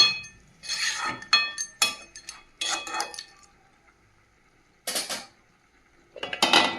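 Metal pot lid handled during home cooking of a pumpkin and potato curry: a series of close clinks and clatters in quick bursts, a quiet pause, then two more rattling bursts.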